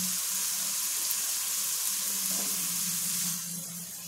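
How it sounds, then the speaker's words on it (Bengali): Spice paste sizzling and frying in hot oil while being cooked down for kasundi mango chicken, a steady close hiss with light stirring throughout, easing slightly toward the end. "আমি এই মশলাটা একটু কষিয়ে নিই যতক্ষণ না তেল ছাড়ে।"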